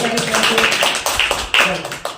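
Children clap together in a classroom during a counting activity, a short burst of close, rapid hand claps with the teacher's voice speaking over them.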